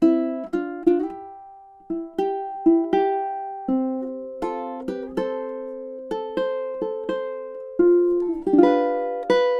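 A high-G ukulele plays a Christmas tune, shifting from three-finger picking to thumb picking, with bright plucked notes ringing in a steady melodic rhythm, close and clear with no voices.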